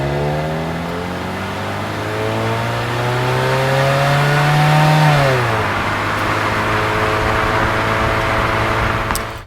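A Maserati GranTurismo engine revs up strongly with a rich, rising note, then drops in pitch as it shifts. It carries on at a steady, loud drone close to the listener, with no talking.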